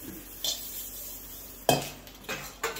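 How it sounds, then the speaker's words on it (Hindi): Dishes and steel utensils are scrubbed with an Exo antibacterial dishwashing bar at a kitchen sink, giving occasional sharp clinks and clatters between quieter rubbing, close by and with no talk. "घिस के तुरंत धो लूंगी।"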